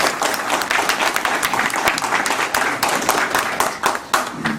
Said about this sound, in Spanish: Tributemos un fuerte aplauso a Manolo.